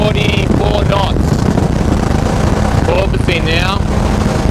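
A Sea Devil speedboat fitted with a new propeller runs at about 44 knots, its engine a steady loud roar with wind and water rush, slapping slightly as the hull porpoises, while people talk over it.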